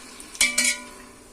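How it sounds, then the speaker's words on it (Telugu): Masala is stirred in hot oil in a pot for mutton biryani, giving two quick scraping metal strokes over a soft sizzle, close and brief, with no talking. "చక్కగా వేసి శుభ్రంగా కలుపుకోవాలి."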